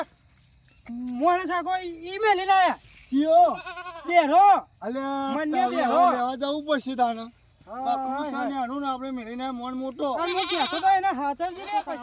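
A goat bleats again and again, close and loud, in long wavering cries that fill most of the stretch with only brief pauses between them.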